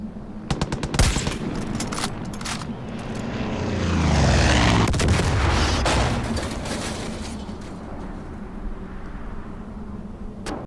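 Aircraft bringing in air support in a video game roar overhead as propeller engine noise swells to a loud pass in the middle, with sharp bursts of gunfire near the start, and no talking.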